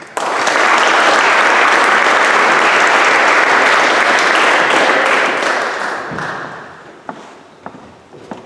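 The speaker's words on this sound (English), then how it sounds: "We'd like to thank him and just have a round of applause." Loud, full applause from a conference audience at a central banking event, a thick sustained wash of clapping that fades after several seconds into a few scattered claps and thuds.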